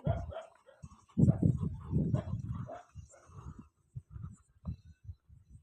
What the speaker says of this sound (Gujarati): એ તો કૂતરા છે